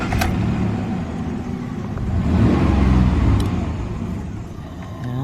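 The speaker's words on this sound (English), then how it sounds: "let's start this vehicle up." A 2003 Jeep Liberty engine cranks and catches, then settles into a steady mid-pitched idle that swells briefly before easing, heard close and with no talking.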